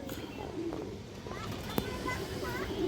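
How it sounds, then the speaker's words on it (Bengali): A large black Kaldom pigeon coos softly a few times in a loft, the low calls sitting beneath someone talking nearby. "এই যে দেখেন বিগ সাইজের কবুতর একবারে ফুল ফ্রেশ কবুতর"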